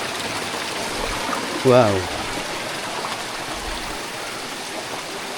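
Water tumbles steadily over rocks at a waterfall and stream, a close, continuous rushing wash with one brief voice exclamation midway.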